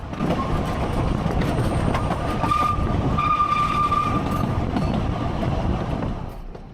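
A steam train runs along a narrow-gauge railway near Porthmadog, heard from aboard as a steady rumbling roll with rail clatter and a few high squeals of wheels, fading slightly at the end.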